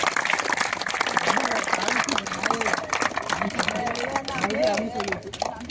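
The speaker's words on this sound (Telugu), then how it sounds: "చప్పట్లు, వాళ్ళకు గట్టిగా చప్పట్లు." At an outdoor cricket tournament prize ceremony, the crowd applauds with a steady patter of clapping throughout, heard beneath a voice on a loudspeaker.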